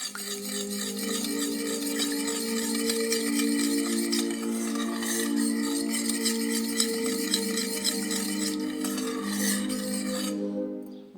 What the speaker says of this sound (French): Donc, je viens remélanger.